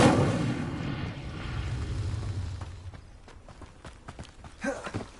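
An Incendio fire spell bursts in Hogwarts Legacy with a loud whooshing blast of flame at the start, then crackles and fades into footsteps and scattered thuds.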